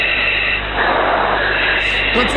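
Airplane engine: a loud, steady jet roar with a muffled, band-limited tone, swelling slightly midway and holding constant throughout, close and continuous with faint background voices near the end.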